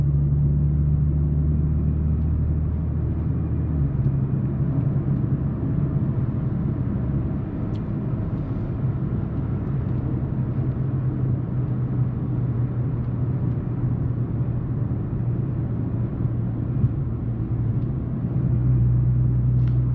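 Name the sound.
supercharged Audi S4 engine and exhaust heard from inside cabin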